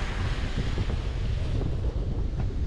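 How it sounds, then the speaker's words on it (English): Strong following wind of 30-plus knots roars across the microphone while waves surge around a sailboat on open sea off NW Spain, a dense continuous buffeting rumble with no voices. "Up to 30 plus knots of wind, but it's behind us, so it's good."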